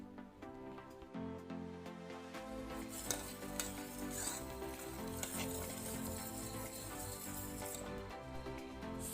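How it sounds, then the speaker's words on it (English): A spoon stirs a homemade vanilla ice cream mixture of milk as it heats and thickens in a pan. The stirring makes a faint, steady scraping and gentle bubbling under a quiet, tonal background. "We can stir this continuously until the mix becomes thicker."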